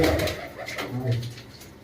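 Pigeons and their chicks in a loft coo in low, throaty murmurs, close by, with overlapping soft calls and a slight background rustle.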